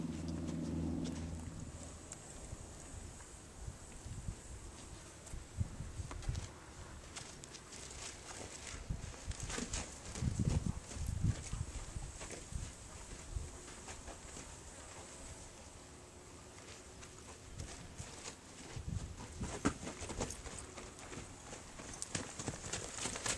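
A horse being lunged on a circle gives steady clip-clop hoofbeats throughout, moderately close with a rhythmic beat, over a light breeze and open outdoor ambience.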